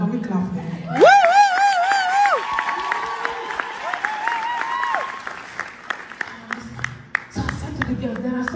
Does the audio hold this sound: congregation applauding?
yes